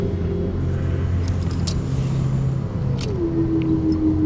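A car in the video game Nobody Wants To Die rumbles and drives past close by, its engine tone holding low then rising as it accelerates away, loud and continuous.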